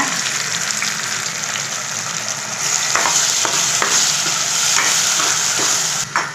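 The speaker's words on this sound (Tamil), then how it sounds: "இதையும் நல்லா இதை சேர்த்து வதக்கலாங்க" Small onions and a thick paste sautéing in hot oil for an onion gravy, a loud, continuous close sizzle with occasional stirring scrapes.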